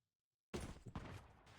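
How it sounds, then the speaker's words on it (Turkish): Gunfire in the mobile shooter Call of Duty Mobile: after half a second of silence, a sudden loud burst of shots crackles on, with a second sharp report near the middle and rolling echoes trailing under the end. "silah sesi sanırım şu taraftan geldi"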